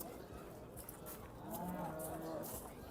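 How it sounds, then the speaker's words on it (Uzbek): A Simmental cow moos at a livestock show, a drawn-out low call rising in the middle of the clip over steady crowd and barn background noise. "Mana semental bitta sigir chiqqan"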